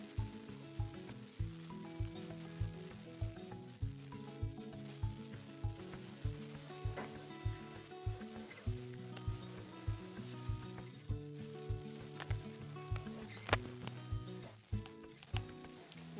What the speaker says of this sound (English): as I'm spinning, I can hear the bowl singing as well